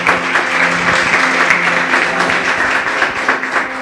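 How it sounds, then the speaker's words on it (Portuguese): Church congregation clapping loudly and steadily throughout, a dense continuous wash of many hands at close range. "Louve ao Senhor com as suas palmas bem fortes"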